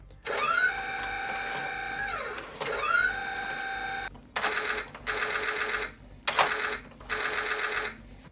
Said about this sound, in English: The main control is used to rotate the turret, while the small knob rotates the machine gun.